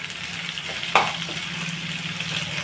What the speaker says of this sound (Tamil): நல்லா போட்டு வதக்கி விட்டுருங்க